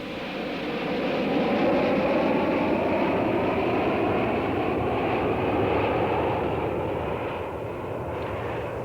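A jet plane streaks past at about 500 knots during an air show, a loud sustained roar that swells early, holds steady, then eases slightly toward the end, with no talk.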